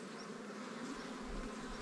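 A swarming honeybee colony hums in a dense, steady buzz close at hand at a highland village, many bees droning together without pause.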